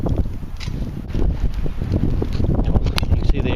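Wind blows outdoors by a campfire lit for breakfast, a loud rough rush of microphone buffeting that builds and holds steady throughout, with no clear voices over it.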